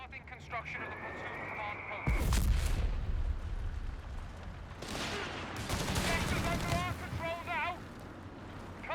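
Artillery and small-arms fire boom and crackle in a 3v3 match of Company of Heroes 3 on the L'Aquila map, with heavy blasts over a constant battlefield rumble and game voices shouting.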